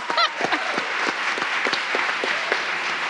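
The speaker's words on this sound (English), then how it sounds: "This is when we applaud." People at a Seattle city council meeting applaud steadily, a moderate burst of crowd clapping heard alone.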